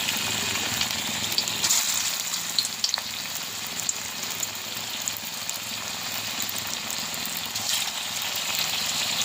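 Drumstick flower fritters frying in hot oil, a steady close broadband sizzle and crackle that holds without a break the whole time, with no voices.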